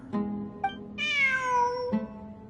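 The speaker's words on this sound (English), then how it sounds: "Look, a cat." A cat meows in the video game Genshin Impact on PS4: two short meows, then a long, rising-and-falling harmonic meow that ends with a brief chirp, close up and clear with no talking.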